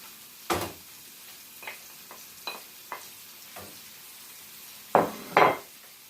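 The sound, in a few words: onions added to a pan for pancetta sauce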